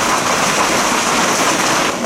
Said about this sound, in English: And we are right in a storm now in that anchorage.